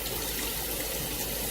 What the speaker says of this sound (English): I put hot water to the fill line so that everything can combine.